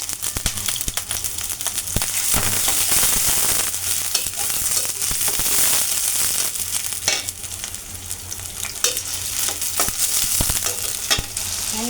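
Diced potato frying in hot oil with onion and green chili, a steady loud sizzle with scraping stirs and occasional crackles running throughout, no voices.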